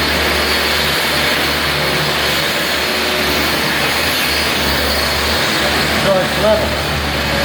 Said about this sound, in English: inside we have floor grinding, and we're grinding this crack down